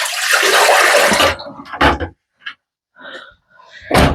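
Water splashes and pours in bursts while a synthetic wig is washed, a long loud rush followed by short sloshes and drips close by.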